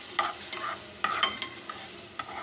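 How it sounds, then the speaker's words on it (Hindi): About 100 grams of small chopped chicken pieces fry with garlic in a pan, giving a soft, steady sizzle under a few sharp stirring scrapes and clacks spaced through the short stretch. "और इसको अच्छी तरह से भून लेंगे जब तक कि इसका चिकन का कलर तब्दील ना हो जाए।"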